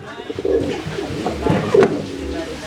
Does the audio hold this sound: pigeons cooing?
yes